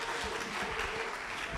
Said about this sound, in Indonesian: Sekali lagi boleh tepuk tangan untuk ketiga narasumber